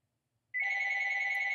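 A telephone rings in a Minecraft Hunger Games match, starting abruptly after a quiet moment as a steady, bright electronic bell tone that holds continuously and loud, with no talking over it.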